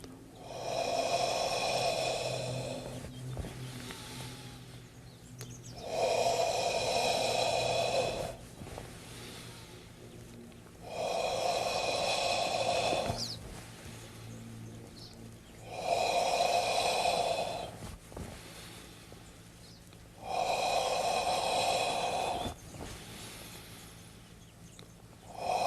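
Deep qigong breathing, slow rhythmic inhales and exhales through the nose, about five long breaths of a few seconds each, close and steady with brief pauses between.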